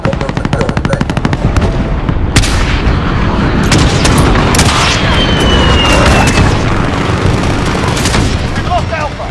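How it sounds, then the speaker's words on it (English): An allied cruise missile strike in the Call of Duty: Modern Warfare game, a loud boom and blast over rapid, continuous machine-gun fire and explosions, with radio voice callouts mixed in. "Allied cruise missile away"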